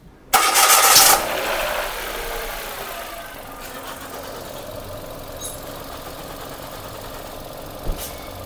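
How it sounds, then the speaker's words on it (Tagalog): A car engine cranks and catches with a loud burst, then settles into a steady idle to warm up on a secondhand vehicle whose radiator shows white residue from oil contamination; a faint click sounds near the end. "painitin muna natin ang makina, nakasarado pa yung thermostat valve niyan"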